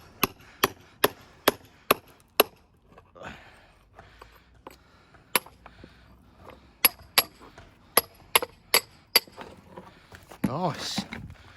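A hammer taps and dresses stone for a retaining wall beside a church, with sharp ringing strikes in quick bursts separated by pauses, close and clear, ending with a brief scrape.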